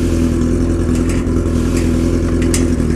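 Suzuki B-King motorcycle engine idling close by, a steady, loud, throbbing low drone with a faint clatter on top and no speech.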